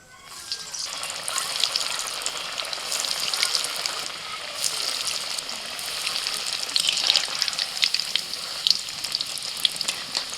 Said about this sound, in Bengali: তেলটা গরম হয়ে গেছে এবার একটা একটা করে ভেজে নেবে